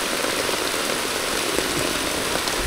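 Heavy rain pours onto a farm, a dense, steady hiss of drops hitting surfaces nearby that stays constant throughout with no voices.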